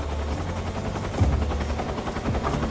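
Helicopter in Metal Gear Solid 3, a continuous low rotor rumble, close and fairly loud, with a short burst of heavier thuds in the middle and no one speaking.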